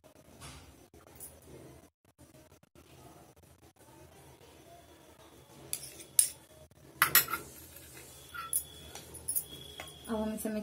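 A spoon clinks and scrapes in a bowl while mixing multani mitti with aloe vera gel for a face mask, quiet at first, then sharper bursts of metallic clinking in the second half.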